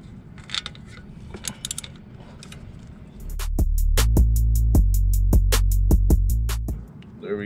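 A socket wrench with a deep socket ratchets on a header bolt of a 2012 Hyundai Veloster, first as scattered light clicks, then as a loud, fast, steady run of ratchet clicks for about three seconds before stopping.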